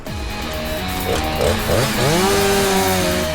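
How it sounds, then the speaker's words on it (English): Chainsaws cut back trees beside a winter road so a stuck lorry can be recovered, a loud, close, continuous buzzing whine with the engine pitch shifting as the blade bites in. "first they're relying on their trusty chainsaws"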